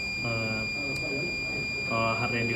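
A buzzer on a heart rate BPM detector sounds with a steady high-pitched tone throughout, while a person talks over it nearby.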